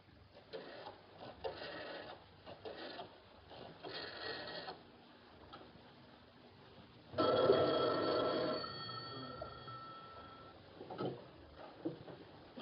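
An old telephone bell in a 1951 home rings in repeated loud bursts with gaps between them. A quieter patch comes first, and a louder ring cuts in partway through.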